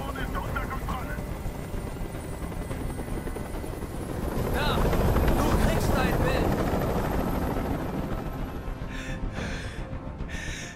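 A helicopter in the video game Detroit: Become Human hovers with a loud continuous rotor roar and thumping that swells in the middle and stays steady, with some breathy vocal sounds near the end.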